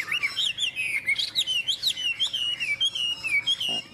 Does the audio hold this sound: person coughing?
no